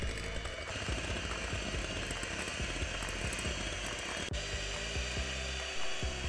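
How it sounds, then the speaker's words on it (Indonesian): Electric hand mixer whipping cake batter at high speed, a steady continuous motor whine with rattling beater noise running throughout, close and fairly loud with no talking. "Sekarang kita mixer dengan speed tinggi sampai mengembang"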